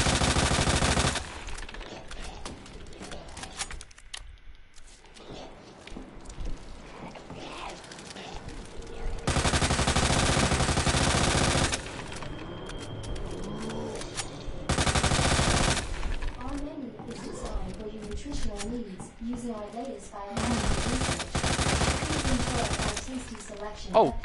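Loud, sustained bursts of rapid gunfire from Resident Evil 2 Remake, in Claire's playthrough, come in several long volleys separated by quieter stretches of game ambience.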